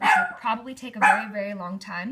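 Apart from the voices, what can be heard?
dog barking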